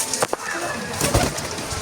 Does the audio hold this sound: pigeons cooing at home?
yes